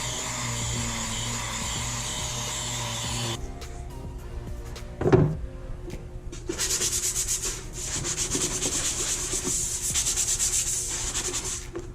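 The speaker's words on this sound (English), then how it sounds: "I sanded everything so I can paint the inside." Sandpaper rubs hard and steadily against wooden treasure chest parts, close up. A long stretch of sanding is followed by a short pause with a knock, then another long run of sanding.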